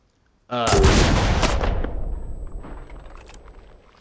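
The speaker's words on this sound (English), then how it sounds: "50 BMG Browning machine gun. Heavy machine gun." A .50 BMG Browning heavy machine gun fires in the video game Enlisted: one loud, close booming blast with a rough, rumbling tail that fades slowly over several seconds.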